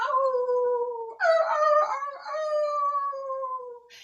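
A person imitates a wild animal howl with the voice, producing long sustained tonal wails that rise and fall, loud and close, in two or three drawn-out phrases with a brief break between them.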